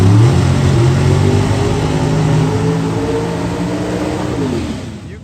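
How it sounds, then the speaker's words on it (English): A Mountain Motor Pro Stock drag car engine roars loud and close after a burnout at a drag strip, a sustained heavy revving drone that holds steady, then drops in pitch and fades near the end. "You can feel and hear every cubic inch of that dang old John Cosby motor"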